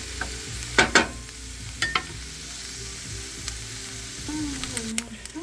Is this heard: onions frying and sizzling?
yes